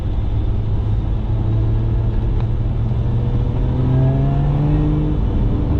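A Jaguar F-Type V6 sports car engine rises steadily in pitch as the throttle is opened, a loud, continuous close-up drone with a slow climbing whine and no talking.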